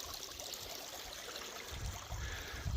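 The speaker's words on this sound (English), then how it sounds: "I've noticed another little catchment, like another little creek trickling in" A small creek trickles into a river near the source of the River Seaton, a faint, continuous watery babble heard at a distance, steady throughout with a slightly fuller splash toward the end.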